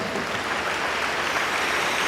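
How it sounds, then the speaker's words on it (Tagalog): A church congregation claps together, a steady, dense wash of applause filling the hall without pause. "pumalakpak sa Diyos"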